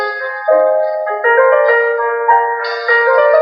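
Music playing from an audio file inserted in a presentation slide: a bright, simple electronic melody of held tones that step between pitches, clear and loud, with no talking over it.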